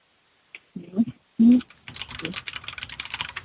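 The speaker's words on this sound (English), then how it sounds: "I can hear you typing, LJ." Someone types on a computer keyboard in rapid, uneven clicking bursts that run steadily after a couple of brief vocal sounds at the start.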